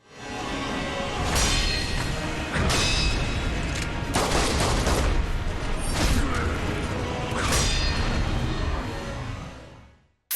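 Gunfire from Isshin the Sword Saint in the Sekiro: Shadows Die Twice boss fight, loud bursts of shots and whooshing sword movement repeating over about ten seconds alongside game mechanisms.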